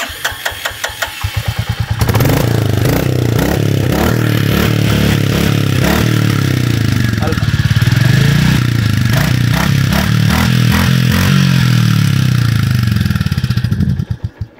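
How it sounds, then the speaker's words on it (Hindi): A 2023 Royal Enfield Classic 350 motorcycle's single-cylinder engine cranks and fires after about two seconds, then runs with a loud, steady thumping idle with slight revving, close by, before cutting off at the end. "तो भाई ये कुछ बाइक की आवाज़ है,"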